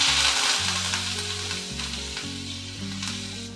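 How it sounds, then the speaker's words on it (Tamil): Curry leaves crackle and sizzle loudly in hot oil in a pan for tempering, a continuous close frying hiss with popping bursts. "கருவேப்பிலையை போடும்போது நம்ம பேனை கையில் எடுத்துக்கிட்டு போடலாம்"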